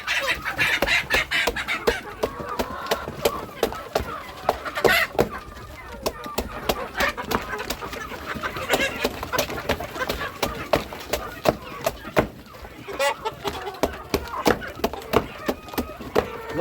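Local chickens cluck and peck at bananas on a farm, soft scattered clucks and clicks close by, mixed with faint background noise.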